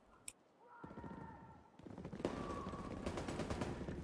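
Gunfire in the Division 2 video game, rapid bursts of automatic shots rattling in fast repeated volleys, starting sparse then building into dense sustained fire in the latter half, moderately distant.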